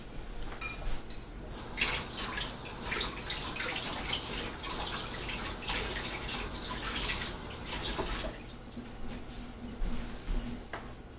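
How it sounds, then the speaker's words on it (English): Cold tap water runs steadily over a tomahawk axe head, a soft continuous splashing hiss with small irregular spatters, fairly quiet and close, with no talk. "Okay, I'm just going to run this under some cold water."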